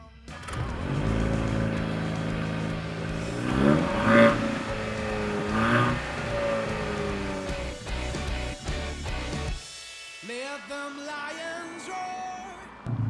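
A Jaguar F-Type 2.0 four-cylinder turbo engine accelerates hard, revs climbing through several gear pulls with rising tone and brief shifts, loud and close, then dropping to a lighter whine and lift-off burble near the end.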